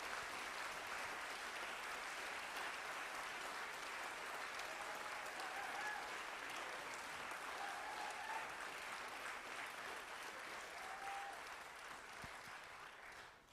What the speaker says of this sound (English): Let's have a round of applause for your new and second-time national champion.